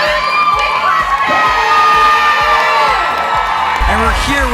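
Crowd at a burger bash cheering, whooping and shouting loudly over steady clapping, a rowdy sustained roar with a thumping beat underneath and an announcer's voice partly heard.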